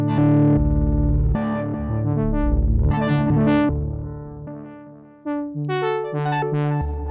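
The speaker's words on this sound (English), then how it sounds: "So this is jumping up the pitch of the buckets." An electric guitar plays through a UAFX Del-Verb pedal set to a pitch-shifted bucket-brigade delay, with sustained distorted chords and notes smearing into bright, rising echo repeats, loud and continuous.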